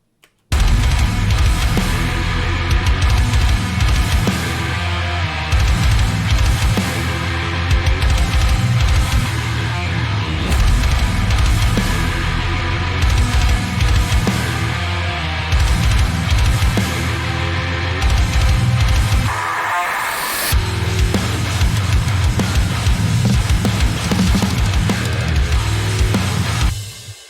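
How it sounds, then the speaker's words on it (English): A dense full-band rock mix with a heavy, distorted low-end bass tone pulsing steadily throughout, briefly dropping out before kicking back in. "The bass tone we're going to be achieving it sounds like this in the mix"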